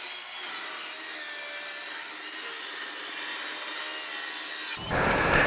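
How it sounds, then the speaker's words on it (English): Table saw ripping cedar picket boards lengthwise, a loud, steady whining cut that holds evenly for several seconds and then shifts into a harsher, broader roar as the board clears the blade. "Then, you'll want to rip those boards lengthwise on the table saw."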